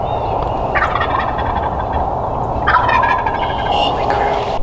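Wild turkeys gobble loudly and close by outdoors, with two distinct rattling bursts about two seconds apart over steady background noise during a hunt.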